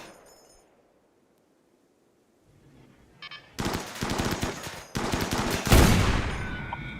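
Bursts of rapid 30 mm cannon fire in the video game Rimworld, loud sustained volleys erupting after near silence, with a heavier impact crash near the end.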